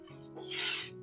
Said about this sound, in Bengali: এই যে আমি এগুলি ড্রাই রোস্ট করার জন্য একটু ভেজে নিচ্ছি